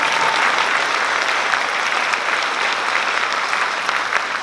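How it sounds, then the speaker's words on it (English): Sustained, dense applause fills the hall from an audience at the Dartmouth Middle School winter band concert, steady and even throughout with no voices on top. "we'll give them a round of applause"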